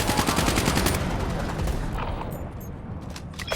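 Video game gunfire crackles in loud, rapid automatic bursts that thin out and fade toward the middle, then return in scattered shots near the end.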